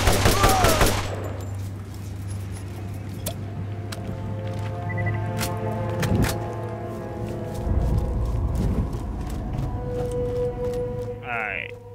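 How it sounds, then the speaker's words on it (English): Gunfire in the Borderlands video game: a dense burst of rapid shots opens loudly, followed by scattered sharper reports under a steady low hum and game sounds. "Who the hell is shooting at me"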